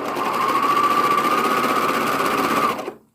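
A sewing machine stitches a knit skirt in one steady, loud, close run of about three seconds with an even whirring hum. It winds down and stops abruptly at the end.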